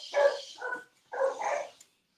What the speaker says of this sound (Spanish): ¿Escuchan a pesar de Toby, mi perro?